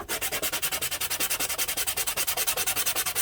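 Rapid back-and-forth strokes of a small wooden dollhouse TV piece rubbed across sandpaper, an even rhythmic scratching of about eight strokes per second, close and alone.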